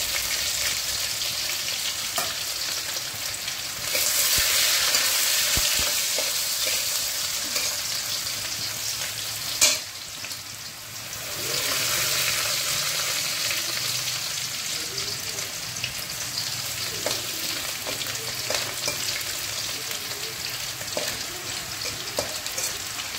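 Chopped ginger and green chili sizzle in a hot pan, a steady broadband hiss that swells louder after a few seconds, with occasional stirring clinks and scrapes.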